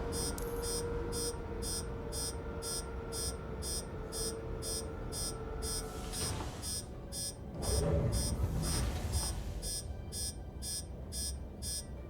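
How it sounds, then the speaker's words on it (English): Repeated electronic warning beeps from a spaceship cockpit in Star Citizen, sounding in a steady regular rhythm over a low engine hum, with a brief louder rumble partway through. "What's beeping at me?"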